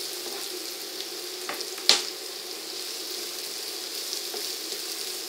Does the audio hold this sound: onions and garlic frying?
yes